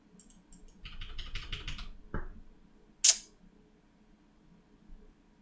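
Quick bursts of keystrokes on a computer keyboard at a game developer's desk, close and clear, followed by a single thump and a bright click, then near silence.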